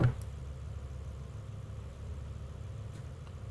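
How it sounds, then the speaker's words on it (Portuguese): An Audi R8 with a straight-pipe exhaust, sharing its engine with the Lamborghini Gallardo, drones at a steady low pitch in the BeamNG.drive driving game, holding one loud, unbroken note with no gear changes or pauses. "Só que o ronco do R8 lá tá só o cano, fi, porque tá barulhento."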